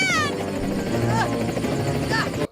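A helicopter's steady rotor drone fills a movie scene during a rooftop showdown, loud and continuous throughout, with brief higher-pitched cries over it.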